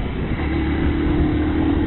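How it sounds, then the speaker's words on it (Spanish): A Hero XPulse 200 FI motorcycle ridden in third gear of its five-speed box, a steady close engine drone with low rumbling and a faintly rising tone, loud and continuous, no voices. "Aquí vamos en tercera, es una moto, para que tengan en cuenta, tiene 5 marchas."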